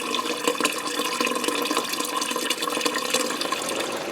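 Water pouring steadily while filling up for greenhouse watering, a continuous hissing splash at an even, fairly loud level with no pauses and no talking.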